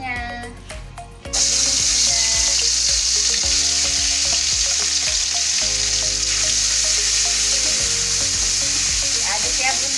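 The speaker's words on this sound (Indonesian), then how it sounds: "masukkan bumbu halusnya" Ground spice paste drops into hot oil in a wok and fries with a loud, steady sizzle, stirred occasionally with soft scraping, for a jengkol dish with candlenut seasoning; it begins after a quieter moment.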